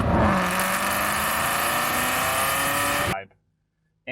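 A 2007 Aston Martin V8 Vantage's V8 engine revs loud and close, holding a steady roar with a rising tone for about three seconds before cutting off abruptly into near silence, with a faint burst at the very end.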